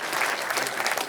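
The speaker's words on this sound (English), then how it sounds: "Round of applause for Russell." Live audience at a digital event claps loudly and continuously for a second, a dense burst of applause with no voices.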